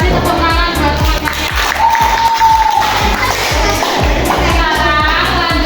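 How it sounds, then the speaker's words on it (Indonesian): Children in a school short-distance running lesson clap and cheer for their classmates, a dense, lively burst of hand claps with shouts and a brief whistle-like tone, loud and close throughout, with some voices mixed in. "Kasih tepuk tangan buat teman-teman."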